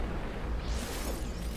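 A gunshot in the video game Superhot lands as a dull, booming burst with a rushing tail, sounding close and heavy over a short stretch.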